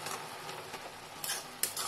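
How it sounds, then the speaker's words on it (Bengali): Spinach greens fry and get stirred in a pan, with a faint steady sizzle broken by short, sharp scraping clatters of the utensil against the metal. "এদিকে পালং শাকের এমনি নর্মাল শাক ভাজাই করছি।"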